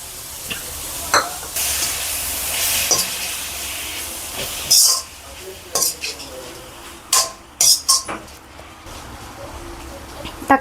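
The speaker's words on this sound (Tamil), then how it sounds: "தக்காளி நல்லா வதங்கட்டும்." Tomatoes with a little salt cooking in a pan for tomato rice give a steady soft sizzle, broken by sharp clinks and scrapes of a spoon stirring against the metal, with louder taps clustered near the end.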